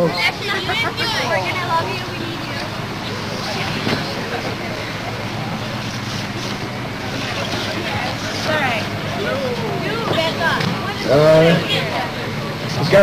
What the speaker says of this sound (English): this crowd is gonna start to riot